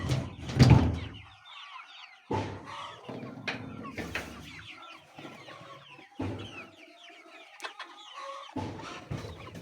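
Chickens on a farm, ten-week-old birds, clucking in short, irregular bursts separated by quiet gaps, fairly close.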